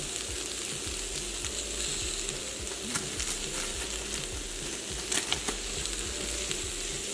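Taco seasoning stirred into sizzling chicken fajitas with seared bell peppers in a pan, a soft, steady frying hiss with scattered scraping and stirring taps, fairly quiet and close.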